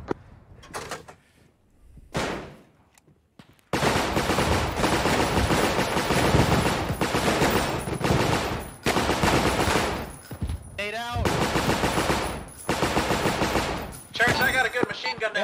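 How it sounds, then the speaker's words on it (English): Machine gun fire in ArmA 3 during a World War II campaign mission, long loud bursts of rapid automatic fire with short gaps between them, after a few sharp single shots at the start. "we're gonna be suppressing the machine gun nest on the end of the road"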